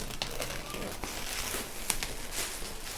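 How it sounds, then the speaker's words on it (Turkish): Soft plastic crinkling and rustling as a bag is pulled off an ASUS DSL-AX82U WiFi 6 gaming modem router box, faint and close with small taps and handling noises. "Şimdi kutuyu şöyle poşetinden bir ayıralım."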